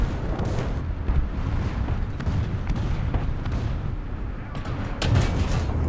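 Artillery fire in War Thunder during a Panzer III Ausf. J1 tank battle, a dense rumbling barrage of low booms and bursts that rolls on steadily, swelling again near the end.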